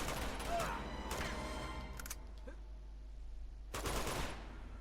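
Mounted machine gun firing in Uncharted 2: bursts of rapid gunfire come and go in short volleys over steady game background noise, moderately loud and close.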